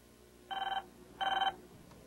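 A telephone bell rings twice in short, even bursts with a pause between, moderately loud against a faint background hum and no talking.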